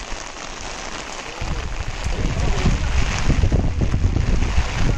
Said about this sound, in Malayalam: പക്ഷെ മഴ ആയതുകൊണ്ട് ഞാൻ ഇറങ്ങണ്ട